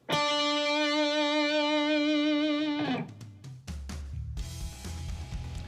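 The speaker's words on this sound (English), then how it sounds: "my guitar not only has distortion or gain on it, I also put a little bit of reverb" Electric guitar with heavy distortion holds a long sustained chord while playing a national anthem, its tail washing out in reverb and echoing delay repeats before a few choppy follow-up notes.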